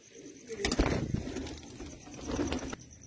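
A pigeon coos nearby in a low rolling call, with a short burst of wing flapping near the start and a second cooing swell near the end, no speech.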